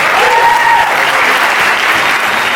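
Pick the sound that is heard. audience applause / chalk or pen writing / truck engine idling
audience applause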